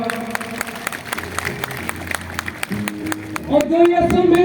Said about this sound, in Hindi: बहुत बहुत जोरदार तालियां स्वागत करो।